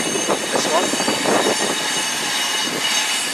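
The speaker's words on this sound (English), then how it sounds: "our final train of the day is the 10:17 arrival from Leeds" A train pulls into London St Pancras, the 10:17 arrival from Leeds hauled by locomotive 43044, its rumble and faint wheel squeal steady throughout the clip while a voice talks over it.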